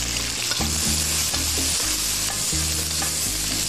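Red and green chili peppers stir-fried in a wok with scallion segments and garlic, a loud continuous sizzle broken by rhythmic scraping strokes of a spatula, about one every half second.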